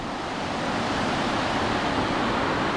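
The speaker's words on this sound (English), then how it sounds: "There's a big corkscrew that's running through. There's water going down." Steady, dense rush of water pours down through a large corkscrew power generator in a river valley, a continuous broadband roar at moderate level with no breaks and no voices.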